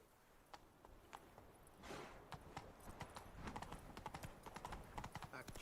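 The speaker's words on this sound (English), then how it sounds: "Run, Roach. Slow now. Whoa." A horse's hooves clop at a walk and then quicken into a steady rhythm in The Witcher 3 video game. The sound is fairly quiet, with a brief snort or whinny mixed in.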